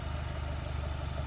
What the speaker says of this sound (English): but it's the turbocharged four-cylinder engine